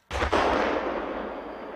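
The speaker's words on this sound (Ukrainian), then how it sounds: "де постріли вибухи, хоч і закладають вуха, але не забирають життя" A single sharp blast from a gunshot or explosion at military tank training, loud and close, followed by a long rolling echo that slowly fades.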